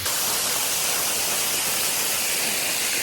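Waterfall on a hiking trail produces a loud, unbroken hiss of falling water, close and steady with no pauses and no voices.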